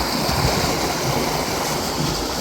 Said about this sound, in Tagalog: Oh, lakas po ng pressure ng tubig.